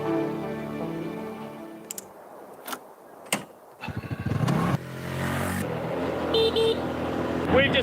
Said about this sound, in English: Want to be on the horn here.